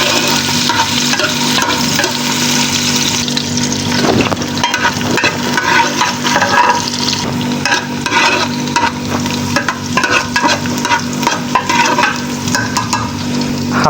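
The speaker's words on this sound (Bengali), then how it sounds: "হালকা আলতো করে নেড়ে নিব।" Mixed vegetables for a Chinese-style dish frying in a pan, stirred gently with a spatula, giving a constant close sizzle with intermittent soft scraping and clattering as the pieces are turned.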